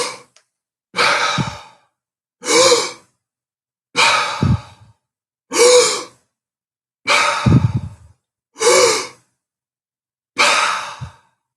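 Breathing resuming after a held breath during a contraction-control workout: seven loud, close breaths, each a long airy exhale or sigh, spaced evenly about every one and a half seconds with silence between.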